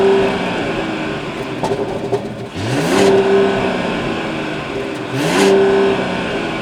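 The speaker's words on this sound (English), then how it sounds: "So it is a turbo inline 6-cylinder, so not the loudest." A Mercedes CLE 450 coupe with an all-wheel-drive turbocharged inline-six is revved twice from idle, each rev rising quickly then falling back to a steady idle, fairly loud and close.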